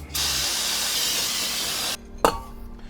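Brake cleaner sprays onto freshly installed brake parts on a 50-year-old vehicle's suspension in a steady, loud aerosol hiss lasting almost two seconds. The spray cuts off abruptly and is followed by a single sharp metallic clink.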